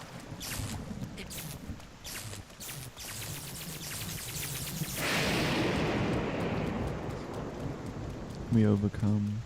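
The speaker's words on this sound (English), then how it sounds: "Damn, and thunderstorm as well." Rain patters steadily in a video game, then a thunderstorm rumble swells into a broad, sustained wash of noise, with a brief loud tonal burst near the end.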